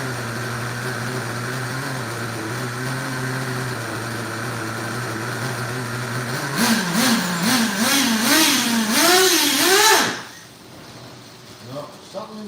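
A small nitro RC car engine idles steadily, then revs hard in several rising and falling bursts before cutting out suddenly. A few faint sounds follow in the quiet.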